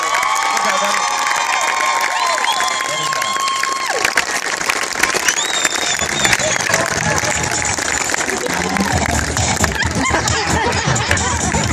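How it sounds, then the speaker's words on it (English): Crowd at a country fair cheering, whistling and applauding loudly, with children shouting and a voice calling out above the din for the whole stretch. "Come on, another round of applause."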